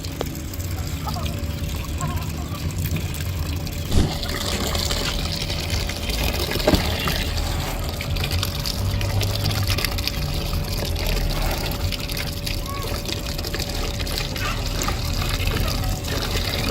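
Water gushes steadily into a container of oil cake, a continuous broadband rush with a faint tonal hum underneath and a couple of brief knocks, lasting throughout at an even level.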